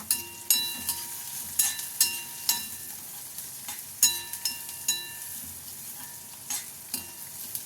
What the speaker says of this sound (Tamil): வெங்காயம் சின்ன சின்னதாக கட் பண்ணியிருக்கேன். அது நல்லா வதக்கிக்கலாம்.